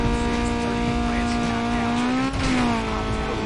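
A race car in Need for Speed Most Wanted (2005) speeds off with a loud, sustained engine whine that bends in pitch as it shifts, plus some tire noise, close and continuous with no talk.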